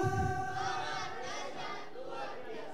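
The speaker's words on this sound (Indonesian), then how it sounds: "Kalau saya bilang Youth Bethany Malang, teman-teman bilang semangat, dahsyat, luar biasa." A youth church congregation in Malang shouts back a response in unison, a loud crowd roar that swells at the start and then fades into a sustained, echoing group cheer.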